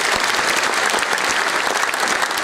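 An audience applauds loudly after an Indian Navy band performance, dense continuous clapping from a crowd with no pauses.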